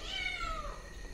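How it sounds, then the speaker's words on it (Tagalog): A cat gives a single drawn-out meow, faint and somewhat distant, inside an abandoned building. "pusa. Pusa nga."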